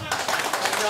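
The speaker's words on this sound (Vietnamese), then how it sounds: "Xin dành tặng cho anh một tràng pháo tay ạ." At a music fan meetup's opening ceremony, an audience claps for a photographer: a quick burst of close, dense clapping under a speaking voice.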